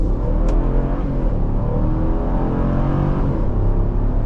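A 2026 Dodge Durango GT Plus SUV engine revs and roars steadily nearby in a forest, a dense, continuous rumble that holds for several seconds.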